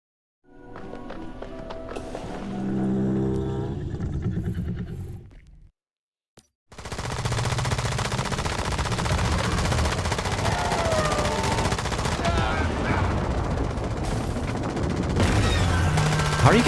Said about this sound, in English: I guess the first thing I gotta do is shoot it.